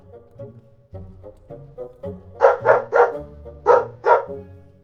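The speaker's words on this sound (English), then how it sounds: "The dog helps protect the farm." A farm dog barks in a quick run of five sharp, fairly close barks, preceded by softer low grumbling sounds; no voices are heard.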